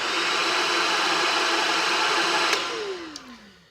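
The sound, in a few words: Shark Rocket vacuum cleaner running at low speed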